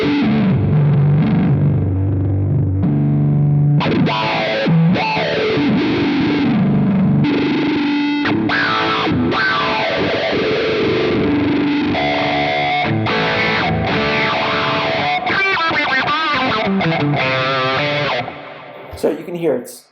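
Electric guitar runs through a Quad Cortex filter effect whose cutoff sweeps back and forth, so the distorted chords and notes shift from dark to bright in continuous sustained playing, loud and close, fading out at the end.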